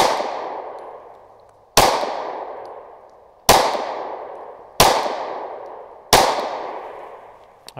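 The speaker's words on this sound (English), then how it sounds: "Now, I'm gonna put that front sight up there and put 5 rounds on target." Five sharp pistol shots from a ZevTech Z320X Compact on a range, evenly spaced about a second and a half apart, each loud crack ringing out with a decaying echo.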